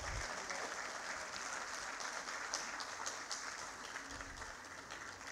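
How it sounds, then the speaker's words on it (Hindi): An audience at an OBC Morcha BJP gathering on 'one nation one election' applauds Sunil Yadav with steady, dense clapping that lasts throughout, evenly loud from start to finish. "मैं जोरदार तालियां बजाएंगे सुनील यादव जी के"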